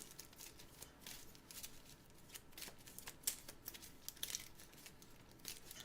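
Nemesis Lockdown board game cards being shuffled by hand make a faint, steady run of soft riffling and flicking, with no other sounds.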